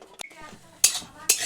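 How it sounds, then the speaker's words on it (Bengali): Cashews and raisins frying in an oil-filled pan, with a few sharp bursts of sizzle and a utensil stirring against the metal, close and moderately loud. "এরপর কাজু আর কিচমিচটি ভেজে নিচ্ছি লাল লাল করে"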